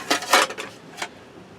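Metal cookware being handled, a frying pan and pot knocking and clinking in a few short, close clatters with a quiet pause between them.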